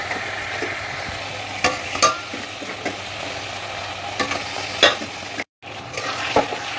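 Boiled mutton frying in oily spice masala, a close steady sizzle with scraping stirs and sharp spatula knocks against the pan, dropping out briefly before resuming.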